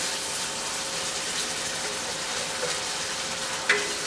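Hot sauce mixture with jalapenos cooking in a cast iron skillet, a steady broadband sizzle with faint scraping of stirring and a sharp clink near the end, close and continuous.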